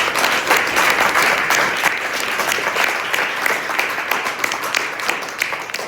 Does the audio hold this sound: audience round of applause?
yes